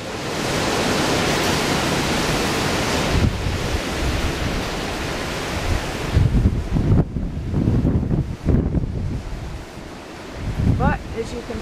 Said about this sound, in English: And that wind's pretty strong. Those are big pine trees to be moving around that much.